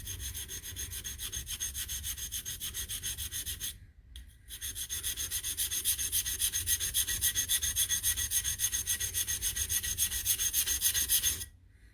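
A blade is ground on a sharpening stone in steady, rapid back-and-forth strokes, close and continuous apart from one brief pause near the middle.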